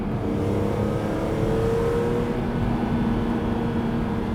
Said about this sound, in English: Hearing that S54 rev hang and slow right back down that is beautiful.